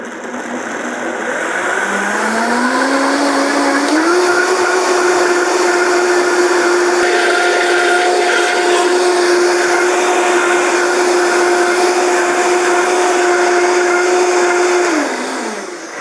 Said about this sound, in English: Now we're gonna blend this up till it's fully smooth.